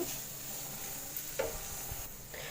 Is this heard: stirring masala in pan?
yes